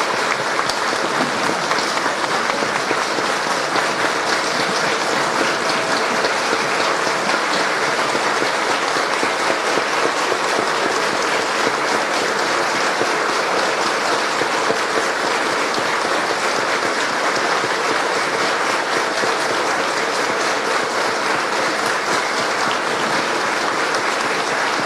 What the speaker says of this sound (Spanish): Brindémosle ese minuto de aplauso.